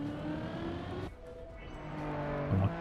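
Desert car in the Trackmania racing game drives with a steady engine tone that drops abruptly midway, then resumes as the car slides, with a brief tire screech near the end.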